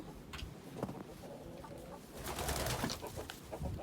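Chickens in the snow clucking and cooing nearby in short scattered calls, with soft rustling and a louder stretch of bird noise toward the end.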